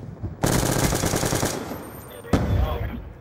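Rapid automatic gunfire from the video game Call of Duty Black Ops 2 rattles loudly in a sustained burst, then a sharp shot and a shorter follow-up burst.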